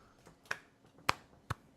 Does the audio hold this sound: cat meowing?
no